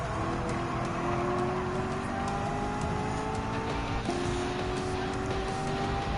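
Race cars lapping High Speed Ring in Gran Turismo 7, steady layered engine drones with rising gear whines and shifting pitch, loud and continuous throughout with no talk.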